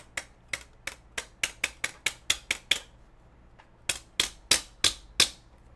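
A die-cutting die scraped to knock out cut pieces, giving a quick run of about a dozen sharp, close clacks, a short pause, then another burst of five or six louder snaps, no talking.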